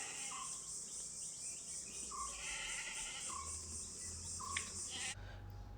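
Crossbreed dairy goats, recently separated from their kids, give a few short bleats at intervals over a constant background of chirping insects.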